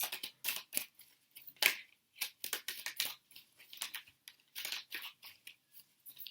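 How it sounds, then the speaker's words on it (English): A deck of oracle cards is shuffled in quick, irregular bursts of crisp riffling and slapping, close and fairly quiet, with short pauses between runs and no talking. "Gosh, these are actually quite difficult to shuffle."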